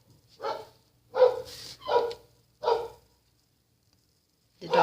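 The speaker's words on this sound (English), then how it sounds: "The dog is upset over birds." A dog upset by birds barks in several loud, separate woofs spaced about a second apart, with a pause before another bark starts at the end.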